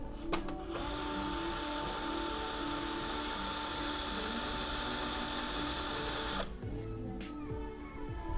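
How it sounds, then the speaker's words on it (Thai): A cheap cordless drill, about 500 baht, bores into concrete with a loud, steady whining motor for roughly six seconds, then cuts off, followed by a few light clicks and handling sounds. "เดี๋ยวผมลองไปเจาะปูนให้ดูนะครับผมนะ"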